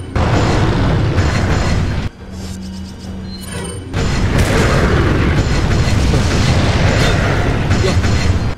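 A bomb blast in Resident Evil 4, a loud, sustained rumbling explosion that fills the scene, dropping to a low droning lull midway before a second heavy roaring burst swells back up and carries on.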